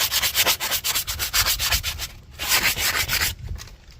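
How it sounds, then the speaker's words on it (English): Sandpaper rubs in quick, rhythmic back-and-forth strokes on a rear brake part of a Kia Sedona, loud and close, with a short pause partway through. "take a sandpaper and just scratch it a little bit"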